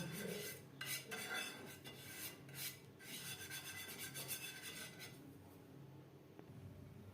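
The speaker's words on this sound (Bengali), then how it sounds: "সবার প্রথমে আমি তেল ব্রাশ করে নেব।" Oil being brushed across the surface of a non-stick tawa while making patishapta pitha, a steady close scraping and rubbing with short bursts of rasping strokes.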